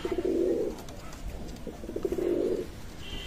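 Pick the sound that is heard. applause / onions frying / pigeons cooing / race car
pigeons cooing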